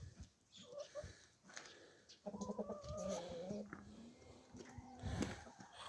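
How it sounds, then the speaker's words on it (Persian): A rooster and hens on a small farm cluck and call in short bursts, with one longer crowing-like phrase in the middle, mixed with background voices and scattered handling noises. "این خروس هنایی منه، این هم مرغانه"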